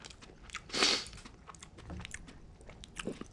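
Close crunchy chewing and biting on Cantonese fried rice, with one loud crisp crunch early and softer mouth sounds after.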